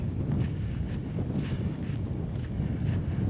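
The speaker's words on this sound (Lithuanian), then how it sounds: "O, biški vėjėliaus," Light wind by Lake Dusia buffets the microphone, a steady low rumbling rush with gentle gusts that lasts throughout.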